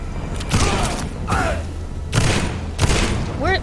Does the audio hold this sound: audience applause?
no